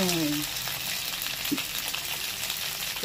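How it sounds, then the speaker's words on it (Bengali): Cashew paste frying in oil in a pan gives a steady, close, hissing sizzle throughout, with a brief tonal sound at the very start and a soft knock midway. "হালকা একটু ভেজে নিয়ে এর মধ্যে দিয়ে দেবো কাজু বাটাটা"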